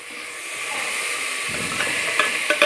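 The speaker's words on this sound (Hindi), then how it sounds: "अभी हमने इसमें आलू डाल दिए कटे हुए। अब हमने इसको 5 मिनट तक ऐसे ही फ्राई करना है।" Chopped potatoes frying in a pan, a steady loud hiss and sizzle with faint stirring clinks toward the end.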